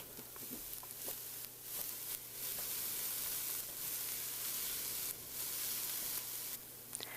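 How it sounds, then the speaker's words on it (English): Diced onion with a sprinkle of salt sizzles steadily in a skillet over medium heat, a continuous close frying hiss with occasional stirring scrapes and brief bursts throughout. "I'm adding 1 diced onion to a skillet over medium heat"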